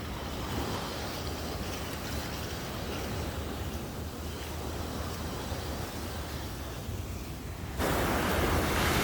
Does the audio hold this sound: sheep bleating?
no